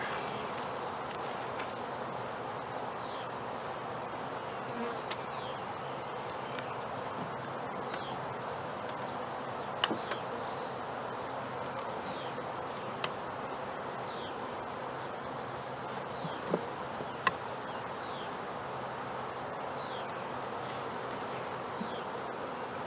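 Bees from a caught swarm hum steadily around delicate new comb, a dense continuous drone with individual insects passing close now and then and a few soft knocks.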